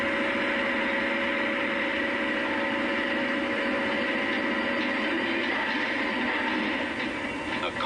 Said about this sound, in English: Every engine is given a thorough 80 minutes test before being fitted into a tractor.